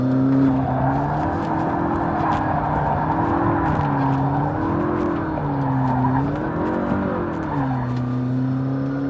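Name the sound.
McLaren 650S sports car driving at the limit on track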